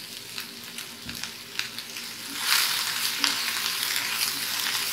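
Mashed tapioca sautés in a hot pan, giving a continuous frying hiss with soft scraping stir strokes that swell louder about halfway through.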